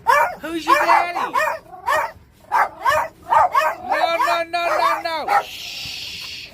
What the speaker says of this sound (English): Well, hello, little dog.